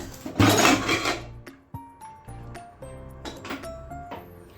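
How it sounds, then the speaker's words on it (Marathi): Metal clanks and scrapes of a pressure cooker lid being handled and lifted off, followed by a few light clinks and ringing taps, close by with no talking. "आता आपण कुकरचे झाकण काढून बघूयात"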